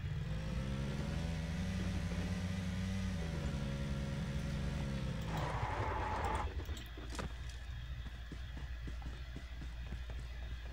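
Car engine in the PUBG Mobile video game, a steady low hum with rising and falling harmonics as it drives, then cutting off partway through and leaving quieter ambient noise.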